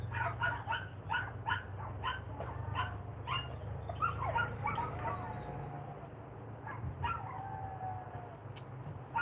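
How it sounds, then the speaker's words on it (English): Several dogs bark in quick bursts, then break into drawn-out howls and whines, fairly close indoors with a low steady hum underneath. "then her dog's flipping out. Now my dog's flipping out."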